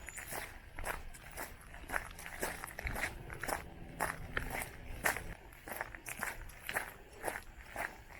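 Soft footsteps strolling through New Zealand bush near Hokitika, a steady walking rhythm close by over faint background ambience, with no talking.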